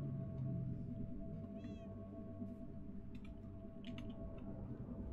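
A cat in the Minecraft video game gives one short meow partway through, heard over a steady low in-game hum, with a few faint clicks and no speech.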